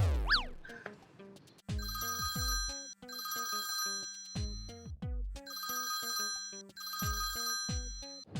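A phone's musical ringtone rings indoors, repeating its bright melodic phrase several times, loud and close with no one speaking over it.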